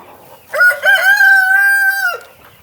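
A rooster on a farm lets out one long, loud crow close by, lasting about a second and a half, with only faint background noise around it and no talking.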